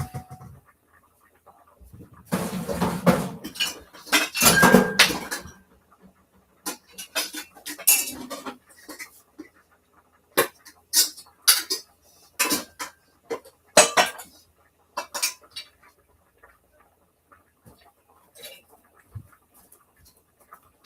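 Metal pots and frying pans clank and scrape in a kitchen, with irregular bursts of clattering separated by quiet gaps.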